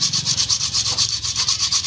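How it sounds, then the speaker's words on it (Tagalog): Rapid, rhythmic scratchy rubbing, sandpaper scraped back and forth over rusty brake metal in quick even strokes, close and fairly loud. "Yung dahan-dahan lang na liha, parang yung kalawang lang yung tatanggalin ninyo."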